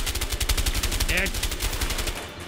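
Automatic gunfire in the video game A Way Out, a rapid, steady stream of close, loud shots with a short voiced sound in the middle as the burst trails off.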